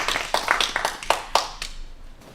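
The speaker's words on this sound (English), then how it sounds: "can give them a round of applause to get started" A small audience at an academic talk gives a short round of applause, a few separate claps thinning out over about two seconds.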